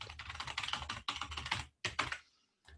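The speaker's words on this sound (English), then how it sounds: "Getting quite good at typing that in because I've done it so many times." Keystrokes on a computer keyboard while entering text during a Windows Server 2019 installation, rapid bursts of close, crisp clicking with brief pauses between runs and no talking.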